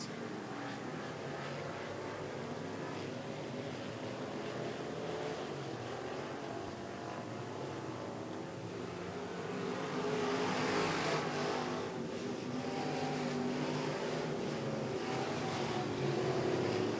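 IMCA Northern Sportmod race cars on a dirt track at North Central Speedway roar continuously at a distance, engines droning and swelling louder toward the end as cars slow nearly to a stop in the turns.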